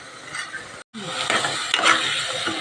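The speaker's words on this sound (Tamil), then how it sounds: "அந்த எண் நெய்யிலேயே பருப்பு போட்டு நல்லா வதக்கி விட்டுருலாம்" Dal stirred into hot ghee in a pan for Mysore sambar, giving a soft sizzle and scraping stir strokes with a brief gap of silence near the start.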